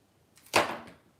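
A glue container is tossed down onto a craft table, landing with a single sharp clatter and a short rattle that quickly fades in a quiet room.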